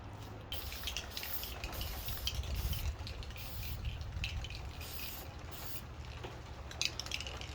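A coat of heat-resistant paint sprayed onto a ribbon burner forge, a steady hissing spray with faint clicks and small mechanical noises, close and fairly quiet throughout.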